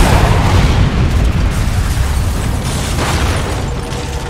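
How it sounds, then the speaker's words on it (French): Artillery fire pounds a base in the war video game Foxhole, a dense, continuous roar of heavy booms and rumbling blasts, loud and close, with no talk over it. "Maintenant, ce qui reste de nos bases est sous le feu de l'artillerie ennemie, jour et nuit."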